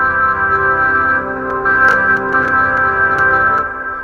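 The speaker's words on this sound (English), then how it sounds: "kind of a cathedral organ sound" A cathedral organ synth patch plays sustained, rich chordal tones with a bright, layered harmonic sound, held steadily with slight swells and a few note changes.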